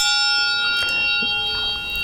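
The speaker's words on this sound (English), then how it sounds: "This is an original bell from the school, as well as this one here." An old cracked bronze hand bell from Montfort School rings with a steady, sustained metallic tone that holds across the whole moment, with a few faint knocks beneath it.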